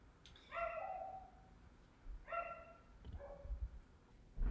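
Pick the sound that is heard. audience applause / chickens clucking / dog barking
dog barking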